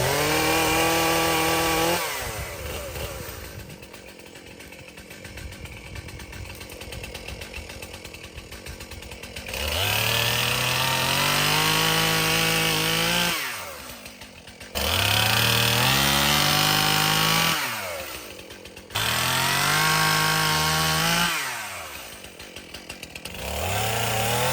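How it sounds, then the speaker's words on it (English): A chainsaw revs and cuts into bigger logs while clearing a trail, its engine rising and dropping in pitch between long loud cuts and idling pauses. "so we can get the chainsaw out and get a couple bigger logs."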